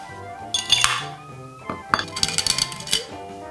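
A large ice cube clatters into a rocks glass while an amaretto sour is being made, giving bright clinks and glassy knocks in a few short bursts, close and clear with no talking.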